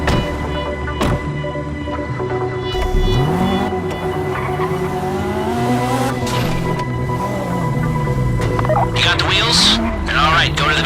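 A car drives in GTA V Online with steady engine revving, tire squeal and skidding throughout, and voices talk over the driving.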